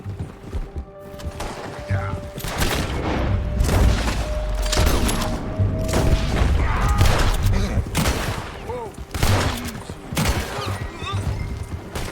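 Gunfire in Red Dead Redemption 2, a close burst of shots blending with hoofbeats, booms and horses in a loud, busy western game scene with voices speaking throughout.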